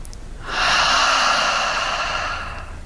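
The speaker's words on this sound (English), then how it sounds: "Take a nice deep breath, inhale, exhale" A single long, deep breath during a seated chair exercise, heard as a steady airy rush that swells after a brief pause and slowly fades, close and fairly loud, with no talking.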